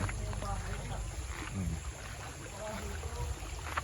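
A river flows beside a vacation house and natural pool in Baco, Oriental Mindoro, giving a steady broadband rush with deep rumble throughout, while people talk faintly over the water.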